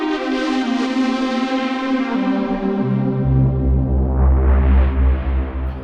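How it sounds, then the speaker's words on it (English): Default lead synth patch of the Krotos Concept 2 software synthesizer, a bright, harmonically rich sustained tone that steps to a lower held note partway through, loud and alone without voices. "It's great sounding lead synth kind of sound."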